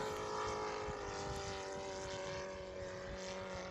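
A large radio-controlled airplane doing a wheel-landing touch and go. Its engine drones steadily with a sustained tonal hum, fairly close and loud throughout, with no talking.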